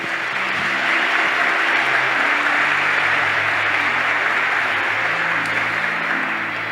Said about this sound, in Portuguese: A Ele uma salva de palmas.